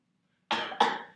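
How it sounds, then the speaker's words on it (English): Two sharp coughs in quick succession, close and loud after a brief silence, the second slightly stronger, with no talking. "don't you know better than to not cover your mouth when you're coughing?"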